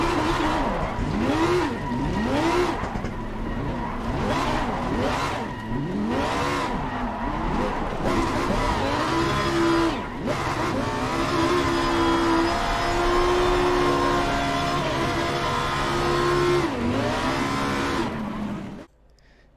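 Race car in Assetto Corsa Competizione at Monza spins donuts, its engine revving up and down in repeated swooping cycles over sustained tire squeal, loud and close, before cutting off abruptly at the end.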